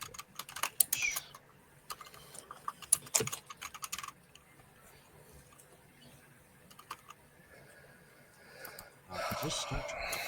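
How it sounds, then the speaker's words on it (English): Keyboard typing from a remote participant during an online tabletop role-playing game session, heard as bursts of quick clicks in the first few seconds, then quieter scattered taps over a low background hum. "Mike, I can hear you typing."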